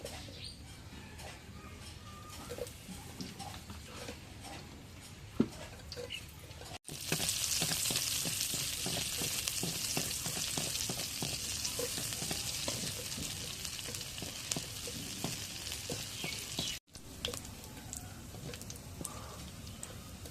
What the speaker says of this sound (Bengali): এখন কড়াইয়ের তেল দিয়ে দিই।